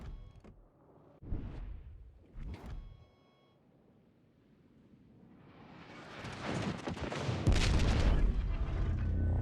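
Booming naval gun salvos and distant explosions from World of Warships Legends, with the ship Conqueror firing; a few sharp blasts come early, then a rising roar of heavy fire and detonations builds loudly toward the end.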